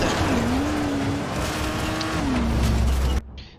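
A car drifts in the Dying Light video game, its tires squealing in a long wavering tone over loud engine roar before it cuts off abruptly.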